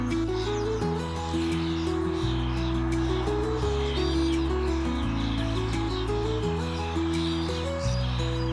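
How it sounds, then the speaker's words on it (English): Cedar waxwings call from trees in a park on a spring morning, thin high chirps and trills scattered faintly over a steady background hum. "these cedar waxwings have been pretty consistent out here, and they are so amazing"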